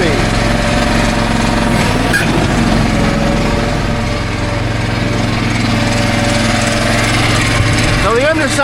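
Small engine running steadily on a hydrostatic-drive machine with forward and reverse, two-speed drive and a hydraulic motor turning a sprocket, a loud continuous droning hum close by with a rising whine near the end.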